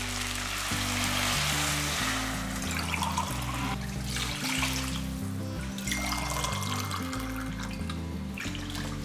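Water pours steadily into a pot of rice, a continuous splashing trickle close by, with a low hum underneath.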